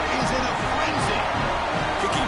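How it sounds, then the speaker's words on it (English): Roaring home crowd in a college football video game, Memphis versus UCLA playoff, cheering loudly and steadily after a UCLA touchdown, a dense wall of crowd noise with a commentator talking over it. "This home crowd is in a frenzy."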